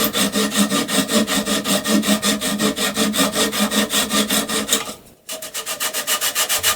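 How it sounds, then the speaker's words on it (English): A Japanese hand saw trims excess wood from the side of a Fender Rhodes Mark 1 piano key, producing fast, even rasping strokes up close, briefly pausing before resuming the same rhythm. "To remove the excess material on both sides, I used another Japanese saw."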